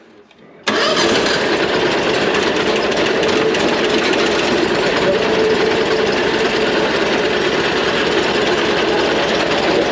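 A Harbor Freight Predator V-Twin engine swapped into an ancient riding mower bursts to life after brief quiet and runs on as a loud, steady, close rumbling roar.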